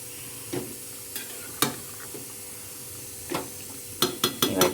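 Potato curry stir-fried in oil sizzles softly near at hand, with a few isolated scrapes of a ladle and then a quick cluster of stirring strokes at the end.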